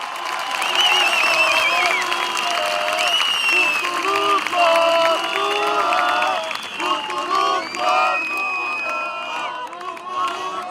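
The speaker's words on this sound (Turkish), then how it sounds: "yürekten alkışlıyoruz" A crowd at a CHP political rally in Esenles applauds and cheers over sustained clapping, with shouting voices and whistles mixed in, loud and dense before easing slightly toward the end.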